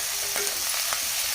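Onion and chunky pieces of capsicum sizzle steadily in a pan, with a couple of brief scraping stirs cutting through the continuous frying hiss, close and moderately loud, no voices.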